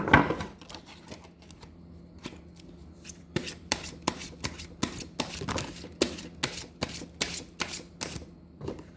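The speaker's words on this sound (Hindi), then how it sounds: "थोड़ा सा मैं शफल कर लेती हूँ फिर मैं देखती हूँ।" Tarot cards shuffled by hand in a quiet room, a run of crisp riffling flicks and slaps that quicken into a steady rhythm, close and alone with no talking.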